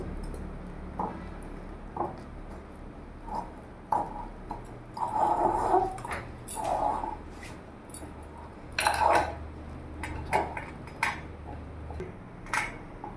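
Palm malpua batter is mixed in a bowl, with soft intermittent taps, scrapes and clinks of a spoon against the bowl, close and fairly quiet, without talk.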